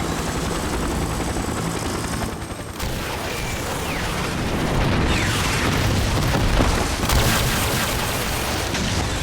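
Armed attack helicopters in a combat scene from a TV drama, a steady, heavy rotor roar mixed with booming blasts and rumbling that grows louder midway, dense and close, with no speech.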